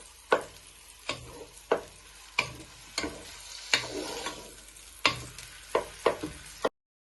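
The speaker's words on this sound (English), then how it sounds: "But at first we're just browning our sausages." Sausages browning in a pot for a one-pot sausage and lentil stew, with a low sizzle broken by about a dozen sharp spatula knocks and scrapes at an irregular pace, close and fairly quiet.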